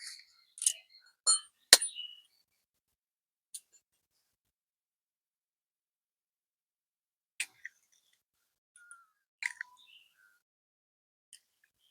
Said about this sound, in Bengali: ডিমটা প্রথমে ফাটিয়ে নেবো